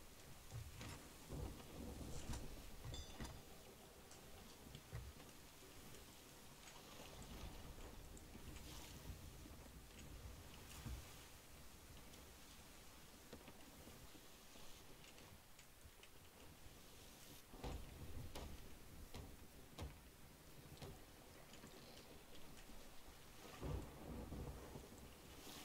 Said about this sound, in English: I despise the storm, I really do.